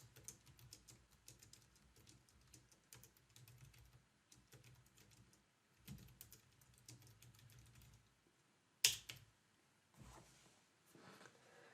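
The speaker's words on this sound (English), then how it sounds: "So let's type up some text." Someone types text on a computer keyboard in quick, light, uneven clicks, close but faint, with brief pauses and a sharp knock near the end.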